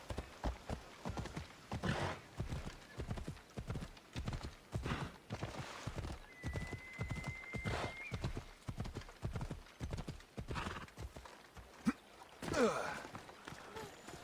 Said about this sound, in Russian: Прокати меня, лошадка.